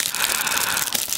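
Red wrapping on a surprise pack holding a plastic toy fire truck crinkles and crackles steadily as it is torn open, a dense close rustle with no talk.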